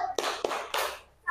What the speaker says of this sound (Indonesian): Berikan tepuk salut untuk kelompok 3